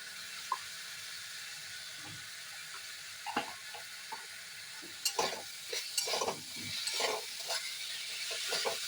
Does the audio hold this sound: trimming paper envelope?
no